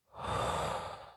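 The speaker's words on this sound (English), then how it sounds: "So from here we can inhale up," A single long, close inhale during a yoga flow, a soft breathy rush that swells quickly and fades out over about a second.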